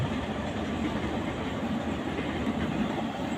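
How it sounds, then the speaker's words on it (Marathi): A train rumbles past close by, a steady broadband roar with faint rhythmic clatter of wheels on the rails throughout. "समोरून चालली आपली ट्रेन"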